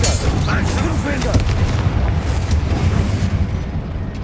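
Confringo and Bombarda-style fire spells exploding in the Hogwarts Legacy video game, a dense series of loud booming blasts under a continuous rumbling battle din, with a character's voice shouting over it.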